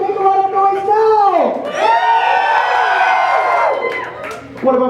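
Loud crowd at a robot combat event roars, cheers and whoops in a sustained surge of many voices, with shouting over the din and a fresh burst at the end.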